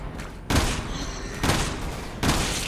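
Gunfire in Resident Evil 6: three heavy shots land roughly a second apart, each a loud boom that decays into a rumbling tail over steady background game noise.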